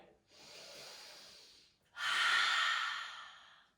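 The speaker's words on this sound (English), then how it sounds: "holding it there and breathing deeply into your belly" Two deep breaths during a children's yoga session, a long airy inhale followed by a louder, fuller exhale, close and breathy with no speech.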